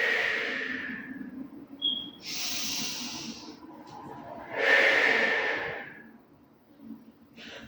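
Long, hissy exhales through the mouth during a beginner Pilates core session, several slow breaths close to the microphone, separated by quieter pauses with a faint soft inhale.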